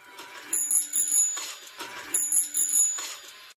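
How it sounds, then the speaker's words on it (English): A tricycle bell in a movie scene rings in quick repeated ching-ching bursts, several short clusters in a row, bright and fairly quiet with no voices. "You hear the damn tricycle bell, the ching ching ching ching of the bell."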